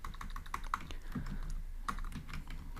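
Fingers type code on a computer keyboard, producing a quick, steady run of light key clicks with a few louder taps, close by and without any talk.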